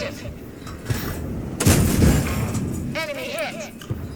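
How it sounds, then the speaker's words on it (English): Tank cannon shots firing in a tank battle video game, a heavy boom near the middle followed by rumble, with someone talking over the action. "I put some shots into M4 FL11."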